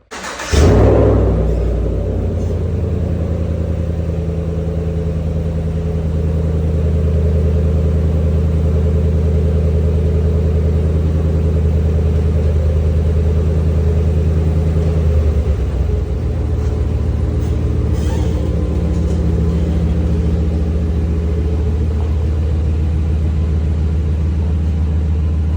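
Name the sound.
truck engine running during a test drive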